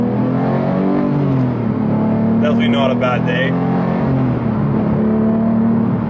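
Steady engine drone inside a moving Porsche 991.2 GT3 Touring, with someone speaking briefly over the constant road and motor noise.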